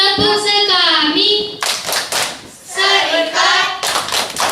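Children clap out a rhythmic chant at a parish community gathering, bursts of sharp hand claps alternating with sung, chanted voices in a lively call-and-response pattern.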